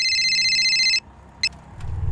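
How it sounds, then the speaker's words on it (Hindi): A telephone rings in a shop with an incoming call, a loud trilling electronic ring lasting about a second before cutting off, followed by a brief chirp and low background rumble. "उस दिन दुकान बंद करने के पहले एक कॉल आया था"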